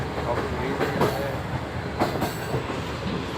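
A passenger train runs through Sindh on the Karachi to Islamabad line, heard from inside a carriage: a steady rumbling roar with rhythmic clickety-clack wheel beats recurring about every second, close and continuous.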